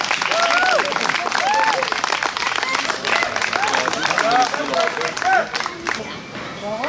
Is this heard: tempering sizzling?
no